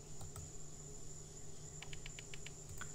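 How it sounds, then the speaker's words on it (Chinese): Steady chirping of crickets and insects forms the ambient soundscape of the pixel-art village-teacher simulation game Village Teacher. The trill continues throughout with a few brief clicks, and no music plays. "游戏没有背景音乐啊，就只有一点点音效，然后还有那个虫鸣鸟叫声"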